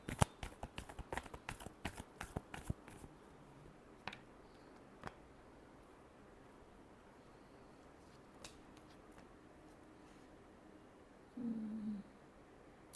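A rapid riffle of tarot cards being shuffled gives a close burst of crisp flicking clicks for about three seconds, followed by a few isolated taps and a quiet room.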